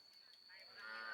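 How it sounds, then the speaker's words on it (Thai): A male albino water buffalo lows at a cattle and buffalo market in Lom Kao, Phetchabun, a single faint drawn-out call that swells toward the end over quiet background noise. "เป็นควายตัวผู้สายเผือก"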